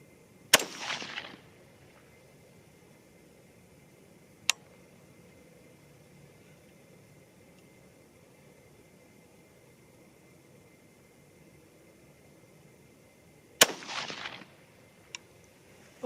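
Two sharp, loud rifle shots from a 6mm ARC MSR firing 85-grain Sierra bullets ring out about thirteen seconds apart, each followed by a brief rolling echo across an open range, with a few faint clicks between.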